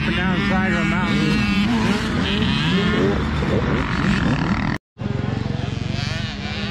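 Several 85cc dirt bikes race around a wet motocross track on a mountainside, engines droning loud and steady with overlapping revs and a brief dropout, a voice talking over the noise.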